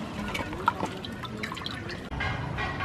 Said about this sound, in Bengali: এবারে পরিষ্কার জলে আমি দু থেকে তিনবার পাতাগুলো ভালো করে ধুয়ে নেব